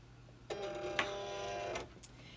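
A Cricut cutting machine feeding in a vinyl sheet gives a brief mechanical whir of about a second, framed by soft clicks, close by in a quiet room.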